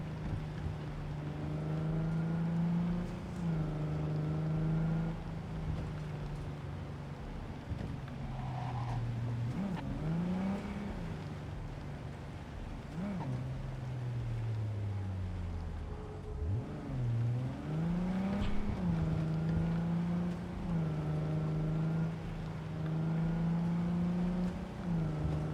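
A car in Cyberpunk 2077 drives on city roads, its steady engine drone rising and falling in pitch as it accelerates and slows, fairly quiet and uninterrupted.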